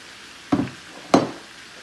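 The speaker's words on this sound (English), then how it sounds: "Now I'm going to add the potatoes and the Brussels sprouts right on top" Potatoes and Brussels sprouts dropped onto onions in a hot pan, giving two sharp sizzling bursts about half a second apart that each flare up and fade back to a quiet low hiss.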